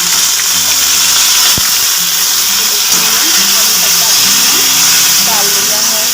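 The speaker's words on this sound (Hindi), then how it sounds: "तो मैं इसमें कड़ी पत्ता डाल दूँगी।" Curry leaves sizzle in hot oil with fried chillies for a village-style poha namkeen, giving a steady broadband crackle and hiss throughout, with a brief sharp tap partway and faint background voices and clatter.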